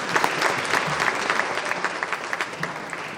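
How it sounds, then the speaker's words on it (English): An audience applauds at a business event where Las Vegas Sands is introduced, a dense crowd clapping that stays even and fairly loud for a few seconds. "So let's give a round of applause for Sands."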